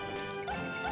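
A down smash attack lands in a Super Smash Bros. Melee match: one sharp crashing hit that stands out briefly over busy, steady game sound.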